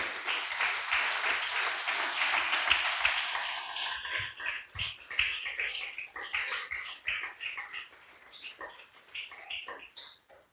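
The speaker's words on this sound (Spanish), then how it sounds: "Denle un fuerte aplauso al Señor mío." A church congregation applauds during a service, with dense clapping for the first few seconds that then thins into scattered, uneven claps fading toward the end.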